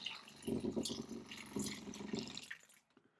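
RV antifreeze pumped through an open faucet during winterization, a steady close splashing stream of liquid that fades out near the end, with no talking.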